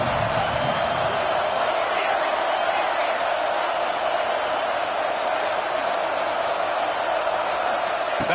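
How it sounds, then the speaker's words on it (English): Loud, dense basketball arena crowd roaring a welcome to the visiting team at an NBA game, a steady wall of cheering and noise that holds throughout without letup. "This crowd bringing an ear-splitting welcome to their visitors."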